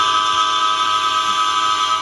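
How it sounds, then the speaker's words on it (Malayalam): A train in the Indian bike driving game gives a steady, loud, droning tone with a held horn-like pitch, unbroken throughout with no voices. "ഞാനിപ്പോൾ ട്രെയിനിൻ്റെ ഉള്ളിലുണ്ട്"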